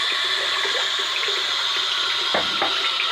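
Water rushes steadily through a recently repaired sink, a continuous close hiss and gurgle with a couple of small knocks near the end, and no speech.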